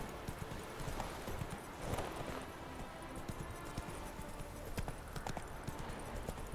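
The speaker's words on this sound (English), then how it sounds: "Turns out Roach is only going to canter." Hooves clip-clop at a canter as Roach the horse runs in The Witcher 3, a steady rolling gallop rhythm heard close and fairly loud over a dense game soundscape, with an occasional faint whinny.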